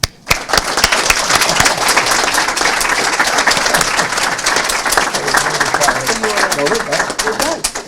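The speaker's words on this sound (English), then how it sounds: "we can give them another round of applause, graduates" A crowd at a 2017 high school graduation ceremony applauds the graduates with loud, dense, sustained clapping that fills the whole stretch, with some voices mixed in.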